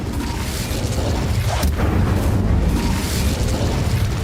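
Spell blast in Hogwarts Legacy, a booming explosive burst with rumbling low end and crackling debris, loud and continuous throughout, with no speech.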